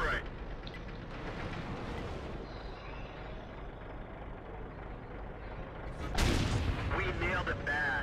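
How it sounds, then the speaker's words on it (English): Artillery fire in a tank battle game: a heavy constant rumbling bed, then one loud booming blast with a sharp onset and echoing tail near the end. "I've got my artillery pointing in that direction"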